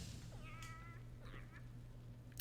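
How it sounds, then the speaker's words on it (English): A cat gives two short meows, faint and slightly apart, over a low steady hum of game ambience in Hollow Knight. "Did I just hear a meow?"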